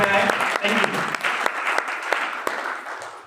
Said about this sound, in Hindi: जोरदार तालियां हमारे पार्टिसिपेंट के लिए।